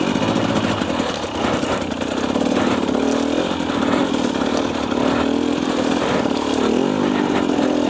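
A 2024 Husqvarna TE250 dirt bike engine drones loudly and steadily as the bike rides through a rocky wash, with the revs rising and falling slightly and rough knocks under the constant motor noise.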